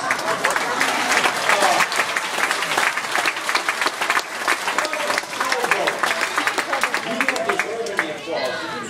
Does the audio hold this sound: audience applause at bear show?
yes